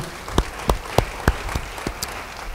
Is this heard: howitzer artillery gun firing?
no